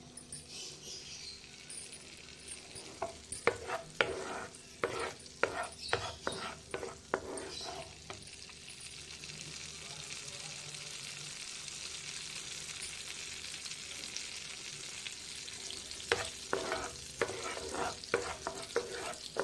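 Butter heats in a pan on a gas stove with a steady, soft sizzle, broken by bursts of quick scraping stirs near the start and again toward the end.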